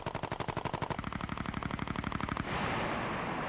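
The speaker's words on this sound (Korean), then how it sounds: "사격 개시 명령이 떨어지고 그녀가 방아쇠를 당긴다." The gun of a Cobra attack helicopter fires a rapid, loud burst of evenly spaced shots for about two and a half seconds, then stops, leaving a steady rotor and engine roar.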